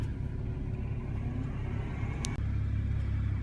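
A Porsche GT4 cruising on the freeway, a steady loud low rumble of engine and road noise heard from inside the car, with a brief click near the end.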